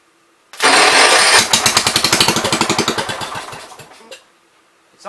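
A 1973 John Deere 110 lawn tractor engine cranks with a loud whirring starter, then fires into rapid, sputtering chugs that slow and die out after a few seconds, close by.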